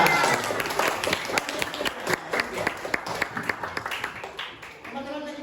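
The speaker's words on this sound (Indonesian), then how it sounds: "Berikan aplaus untuk kelompok 5." Classroom applause for a student group, many hands clapping at once in a dense, steady patter with crowd murmur and voices mixed in, fairly close and lasting throughout before tapering slightly at the end.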